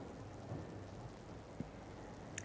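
Steady rain falls during a Haryana weather spell, a faint, continuous hiss with a few small drop ticks and no voices.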